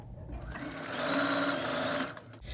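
A sewing machine runs a short burst of stitching while a fabric Polaroid quilt block is sewn, the motor whirring up, holding a steady hum and stopping, close and fairly quiet.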